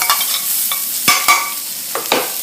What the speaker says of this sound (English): we're going to cook off the shallots a little bit